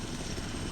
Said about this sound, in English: Yep, he's landing good. Yeah, I can fly helicopters.